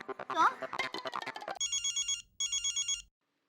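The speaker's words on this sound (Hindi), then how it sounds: "मैं अभी टप्पू के पापा को फोन करती हूँ" A telephone rings in a Hindi family TV sitcom, two bursts of bright electronic trilling that follow a woman's lively speech and stop abruptly.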